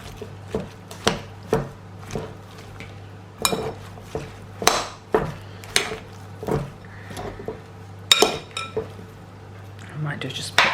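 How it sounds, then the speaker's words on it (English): Fennel, celery and egg salad tossed in vinaigrette in a bowl, giving repeated clinks and scrapes of utensils against the dish in an irregular rhythm, close and moderately loud, with a steady low hum underneath. "just going to mix that all together, just so that the vinaigrette covers all of this"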